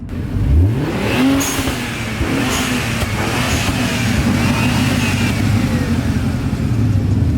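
A Mustang GT 5.0 fitted with an HKS exhaust revs nearby. It makes a loud, steady V8 roar with rising and falling engine pitch that fills the whole stretch, with no talking.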